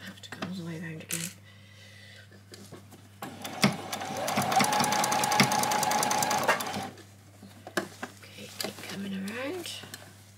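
A sewing machine stitches a doll's dress in one sustained, whirring run, with quieter handling and brief bursts before and after; a voice is briefly heard nearby.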